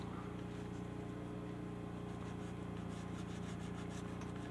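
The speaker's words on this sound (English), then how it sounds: "Wipe it down. Rub it in, burnish it, something like that." A finish is being rubbed and burnished into the wood of a Fender guitar: a soft, continuous rubbing texture close to the microphone, with faint rhythmic strokes over a low steady hum.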